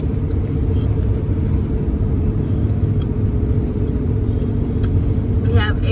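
Steady in-car road rumble and engine drone from a car cruising on an Ohio highway, continuous and fairly loud throughout, with faint voices or sounds in the background.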